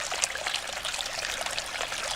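Water trickling out of the ground beside a trail near old mine drainage, a close, steady babble and splash with bright bubbling droplets throughout and no talking.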